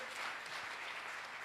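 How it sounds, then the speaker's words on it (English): Congregation in a church clapping hands in praise, a dense steady patter of many hands filling the short moment without speech. "may clap hands for Jesus"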